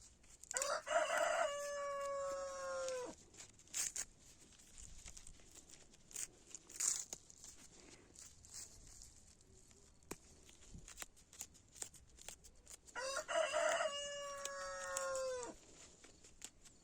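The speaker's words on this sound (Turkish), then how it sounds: "Kümese de çok yakınım. Bizim horozlar da durmuyor." Two loud rooster crows ring out close by near a chicken coop, one near the start and another near the end, with quiet rustling between them.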